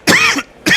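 A person coughs twice in quick succession, two sharp, loud, close bursts separated by a short pause.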